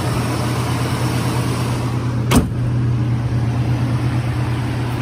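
A 1965 Ford Mustang convertible with a rebuilt engine idles steadily and close, a low even hum that runs throughout with one brief sharp click or knock partway through.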